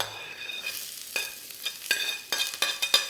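Onions and peppers hitting a hot pan with browned garlic and ginger, bursts of loud close sizzling that flare and fade in quick surges as the vegetables are tossed and stirred.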